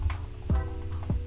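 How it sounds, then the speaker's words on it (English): Rapid computer keyboard typing during a Nitro Type race, a close series of light clicks and taps with a couple of heavier keystrokes standing out. "Oh, I'm actually typing kind of fast."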